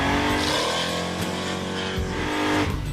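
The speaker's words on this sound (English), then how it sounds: "Ready for rolling burnout?" The Crusher Impala, a loud race-tuned car, does a rolling burnout, its engine roaring and revving hard as the tires squeal and skid, close and continuous.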